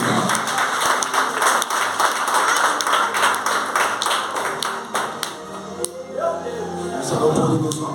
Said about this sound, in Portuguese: Palmas bem forte para Jesus.